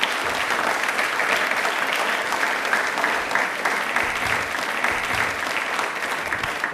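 A studio audience at a televised Indian Railways quiz show applauds steadily and loudly, a dense even wash of many hands clapping that holds for the whole stretch without letting up.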